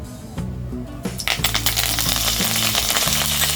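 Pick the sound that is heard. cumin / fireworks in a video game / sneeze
cumin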